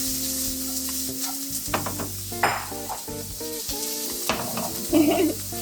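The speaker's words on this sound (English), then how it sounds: "So right now it's hot. Onions in there." Chopped onions frying in hot oil in a pan for a vegan burger, a steady sizzle with occasional stirring scrapes and clinks, close and alone.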